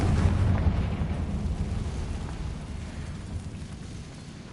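A fire spell bursts in Hogwarts Legacy, giving a sustained loud, rumbling explosive roar with heavy low crackle that fades gradually over a few seconds, no voices.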